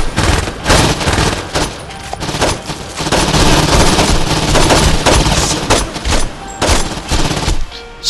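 Dense, continuous gunfire and rocket explosions from the video game Saints Row 2, loud and unbroken for the whole stretch, with rapid bursts and booms piling on top of one another.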